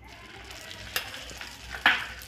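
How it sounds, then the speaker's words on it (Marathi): Melted sugar and a spoonful of ghee are stirred in a pan over a gas flame for paneer-coconut barfi, giving a faint, soft sizzle with a few light spoon scrapes. "आता हे आपल्याला छान मिक्स करून घ्यायचं।"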